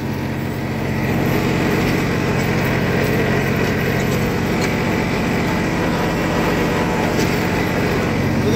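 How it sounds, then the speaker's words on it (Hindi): A Swaraj tractor engine runs steadily during night-time ploughing, giving a loud, continuous mechanical drone that holds level throughout with no voices. "और दोस्तों ट्रैक्टर बेचारा हमारा बहुत बढ़िया"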